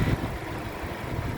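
A 2015 Suzuki Ertiga 1.4 GX manual with its 1400 cc four-cylinder, front-wheel-drive engine idles steadily up close, a low even rumble holding level throughout with no voices.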